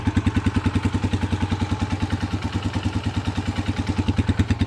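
Panterra 125cc dirt bike engine idling with the choke partly on, a rapid even putter of exhaust pulses with a slightly clattery edge, steady and close for several seconds.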